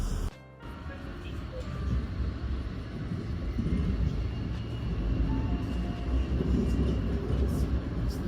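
A train pulls into a station in Berlin, a low rumble that swells and stays steady after a brief dip, with people talking over it.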